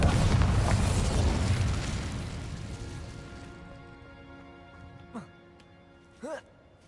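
A Bombarda spell explosion in a video game opens with a loud, rumbling blast that slowly fades over several seconds, followed by two brief, faint magical whooshing effects.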